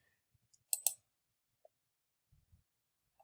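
Single mouse click on a computer, a faint, sharp double tick in quiet surroundings, followed by a few soft, barely audible taps.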